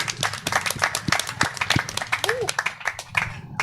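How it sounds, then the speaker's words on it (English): Scattered audience clapping at a talk show event in Bali, fairly close individual claps with voices mixed in among the crowd. "One more round of applause, everybody."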